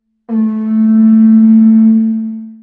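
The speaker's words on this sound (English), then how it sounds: "the ivory hunting horn made from elephant tusk, and it sounds like this" A single deep, sustained blast from a hunting horn made of elephant tusk ivory, steady and rich in overtones, held for a couple of seconds before fading.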